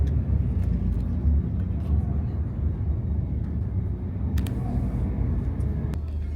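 Sinarjaya intercity bus on the route from Bekasi Timur toward Gresik, heard from inside as it pulls away after a short stop: steady, loud low engine rumble and road drone with faint talk and small knocks over it.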